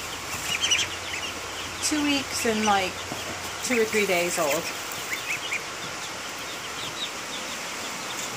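Young ducklings about two weeks old give high, rising peeps in a few short clustered bursts against steady outdoor hiss, while a person talks over them.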